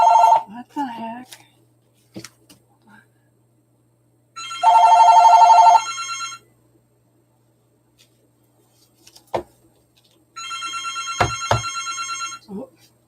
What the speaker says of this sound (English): Oh, the other phone's not muted.